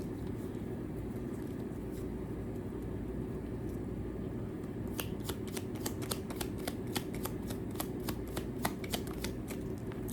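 Tarot cards being shuffled in quick riffling bursts, a crisp run of repeated flicks in the second half over a steady low background hum, close and fairly quiet.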